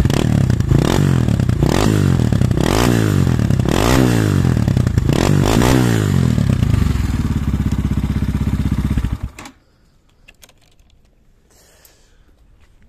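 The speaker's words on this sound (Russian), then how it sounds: "Выхлоп послушаем и заглушим." A Motoland XR250 Light motorcycle engine revs in repeated rising bursts, then settles to a steady idle before cutting off abruptly into near silence.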